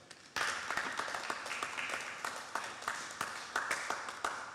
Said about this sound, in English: they deserve a round of applause for that